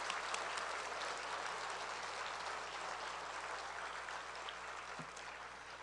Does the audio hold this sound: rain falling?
no